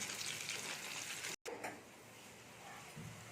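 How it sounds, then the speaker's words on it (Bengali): Flattened-rice (chira) snack pieces frying in hot oil give a steady, close, broadband sizzling hiss, broken by a brief silent cut before the frying continues a little quieter. "আমি সবগুলো ভেজে নিচ্ছি"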